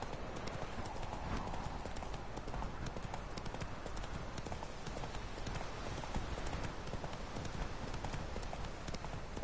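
Horse hooves clip-clopping in The Witcher 3, a steady rapid trotting rhythm of hoofbeats, loud and continuous throughout.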